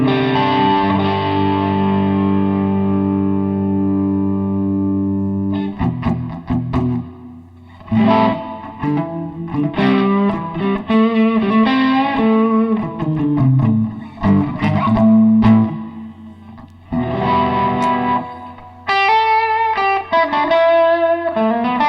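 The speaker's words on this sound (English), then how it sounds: "I like the hall reverb." A sustained synth-like instrument, built as a preset on Lava Studio, plays notes bathed in a spacious, lingering hall reverb, each phrase trailing into a long, washed-out decay.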